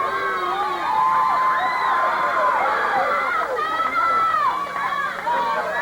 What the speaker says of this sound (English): You can hear the crowd picking up the chant, Baby Huey, Baby Huey.